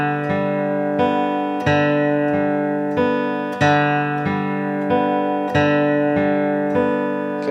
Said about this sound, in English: we're going to systematically teach our pick hand how to do really strong forward